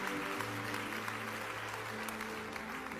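An audience at a motivational talk claps faintly and steadily in a distant, even patter, with a low hum in the background throughout.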